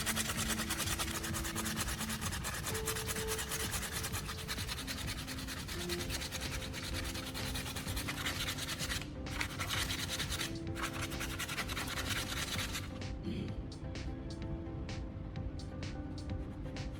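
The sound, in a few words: sanding hot glue plastic crack repair flat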